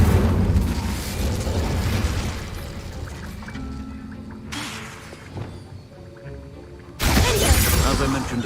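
Incendio, a fire spell, is cast in the video game Hogwarts Legacy, with fiery bursts and booms amid game effects and voices; two sharp, loud blasts stand out, one near the middle and one toward the end.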